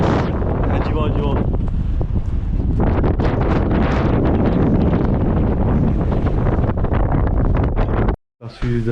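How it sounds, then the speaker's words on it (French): Strong gusts buffet the microphone on the Icelandic coast, a loud continuous roar that cuts out abruptly near the end before returning briefly. "Ah, du vent."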